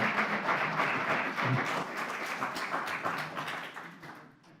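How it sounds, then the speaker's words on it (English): An audience at a county planning commission meeting applauds in a dense burst of clapping that holds steady, then gradually thins and fades toward the end. "You should have all stood when you were applauding"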